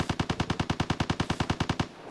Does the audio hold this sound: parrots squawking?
no